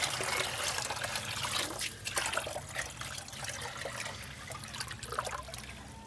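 Water trickles and splashes steadily as a cichlid fish tank is filled, a continuous close pouring rush with small gurgling shifts throughout.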